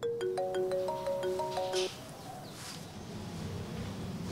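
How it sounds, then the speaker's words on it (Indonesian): A mobile phone rings with an incoming call, a bright melodic ringtone of stepped beeping notes that plays for almost two seconds and then cuts off, leaving a quiet room hiss. "HP ku bunyi, kayaknya ada yang nelpon deh"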